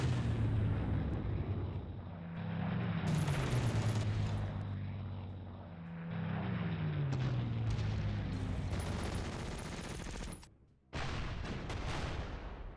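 Artillery bombarding a recon unit in the strategy game Panzer Corps: a steady, loud rumble of booms and explosions with a brief dropout near the end.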